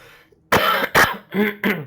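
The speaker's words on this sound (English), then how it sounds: "Sorry for the coughing." Four harsh coughs in quick succession, loud and close, each a sharp burst with short gaps between.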